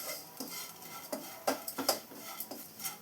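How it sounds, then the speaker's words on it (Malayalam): Grated coconut frying in a pan on medium flame while a spoon stirs it, light scraping clinks and soft stirring knocks at an irregular pace over a faint sizzle, close and quiet. "ഇനി ഇതും കൂടെ നന്നായി ഫ്രൈ ചെയ്തെടുക്കാം"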